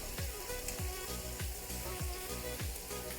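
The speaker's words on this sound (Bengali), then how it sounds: "মাছটা ভাজা হোক" Small fish frying in hot oil in a Bengali home kitchen, giving a steady close sizzle and crackle, with soft regular clinks of a utensil stirring the pan.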